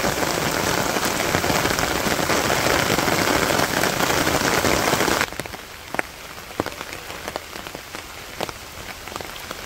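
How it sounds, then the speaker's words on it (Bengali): Heavy rain pours down on surfaces during the rainy season in Bangladesh, a loud dense hiss that drops suddenly about halfway to a lighter patter with distinct drips. "বৃষ্টির শব্দটা হয়তো ভালো লাগে"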